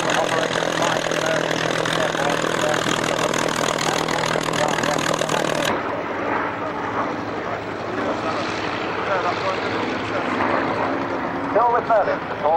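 Packard Merlin engines of a World War II fighter at an airshow, a steady droning propeller roar that continues throughout while a voice speaks over it, with the tone shifting partway through.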